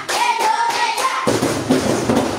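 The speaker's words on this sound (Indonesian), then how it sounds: "Untuk menambah semangat kita tambah lagi tepuk fokus." Classroom clapping game called tepuk fokus, a teacher-led rhythmic clap routine in a religion lesson; a run of loud, close hand claps and taps with a room full of children clapping together, no talk over it.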